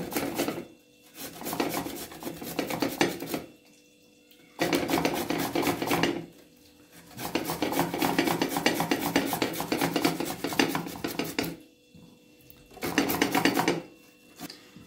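Garlic cloves rubbed on the fine side of a metal grater for an eggplant dish, a close rhythmic rasping scrape in three long bursts separated by short pauses.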